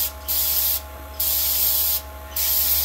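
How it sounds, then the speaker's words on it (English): Short bursts of aerosol spray aimed at a leaking sensor fitting on a Harvest Right freeze dryer, three separate hissing sprays over a steady machine hum, close and fairly loud. "I'm just spraying."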